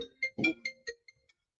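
A phone alarm or ringtone chirps in a short run of distinct electronic beeps, about half a dozen tones spaced irregularly and fading to faint blips, heard alone in a quiet room.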